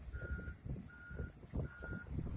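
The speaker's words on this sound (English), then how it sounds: "a distributor truck sprays hot asphalt rubber evenly onto the existing road surface" A distributor truck spraying hot asphalt rubber onto a road surface sounds three evenly spaced reversing beeps over a rumbling diesel engine, with the machinery chugging in irregular low bursts underneath.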